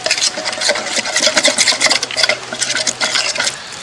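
Tandoori masala, kasuri methi and black salt are mixed together, giving close, loud scraping and rubbing strokes in quick uneven rhythm, with no talking.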